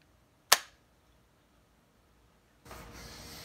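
An Adventure Force Hammer Shot toy dart blaster fires once with a single sharp, close snap that decays quickly, followed by quiet and then a steady low hiss.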